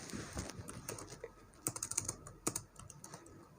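Quick keystrokes tap on a computer keyboard as a file name is typed, an irregular run of close, soft clicks with a few sharper presses.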